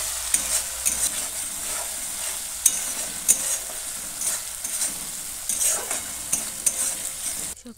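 Chicken curry masala with tomato paste is mixed in a pan over a constant hiss of frying, while a spatula scrapes and knocks against the pan at irregular intervals, near and moderately loud, with no one talking.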